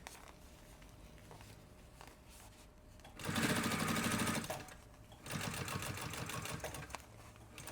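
A sewing machine stitching a puffer backpack runs in two sustained bursts separated by a short pause, fairly close and steady, with quieter handling noise before.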